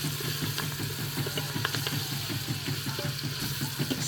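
Onions, ginger, scallion and garlic sizzle steadily while sautéing in an Instant Pot, a continuous close frying hiss with light stirring scrapes throughout and no talking.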